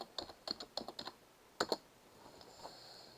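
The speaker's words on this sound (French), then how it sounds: "vous allez tout simplement taper Veritas" Close, crisp typing on a computer keyboard: two quick bursts of clicky keystrokes separated by a short pause, then a few lighter taps fading out, no talk.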